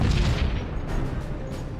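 Heavy booms roll in from T-34 tank fire during street fighting at Stalingrad, a deep rumbling blast with a long, dull decay and no talk.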